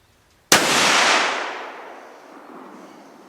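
A single loud, close rifle shot from a Ruger American .308, fired at a target dot at a deer hunting camp, with a sharp crack followed by a long decaying echo rolling off over about three seconds.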